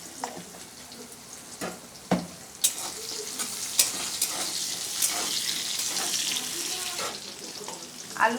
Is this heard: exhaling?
no